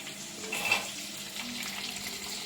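Onions added to garlic in a clay pot for fish curry give a soft, steady sizzle with a brief stirring scrape, moderately quiet and continuous, with no talking.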